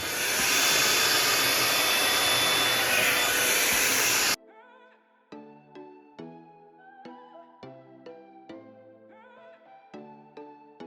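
Hair being blow-dried while stretching it out, a loud steady hair dryer roar for about four seconds that cuts off abruptly, followed by soft piano-like music.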